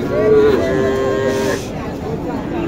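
Cattle at a busy cow market moo loudly and close by in one drawn-out low call, with faint crowd murmur behind.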